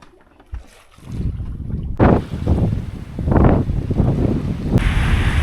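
Strong wind of about 20 knots buffets a sailboat that is surging quickly through the water in the Gulf of Corinth. The rush of wind and water swells in repeated loud surges, with no talking.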